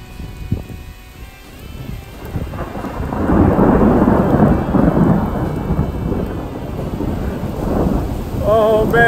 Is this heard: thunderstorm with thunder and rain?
yes